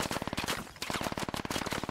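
An MG3 machine gun in a wartime video game fires long, rapid bursts of loud, evenly spaced shots, with a brief gap between volleys and a dense staccato rattle throughout.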